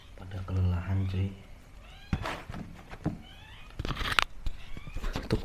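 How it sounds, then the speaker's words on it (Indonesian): A cat meows several times in a dark indoor space, a few short mid-pitched cries among thumps and shuffling, with people talking nearby. "Itu kucing apa ya, aneh banget."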